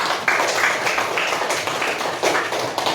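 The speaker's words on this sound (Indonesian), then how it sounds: "Tepuk tangan." A classroom of children clapping hands together in a steady run of sharp, overlapping claps, fairly close and loud, with a few brighter accented bursts and no talking.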